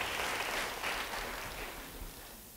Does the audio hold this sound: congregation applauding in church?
yes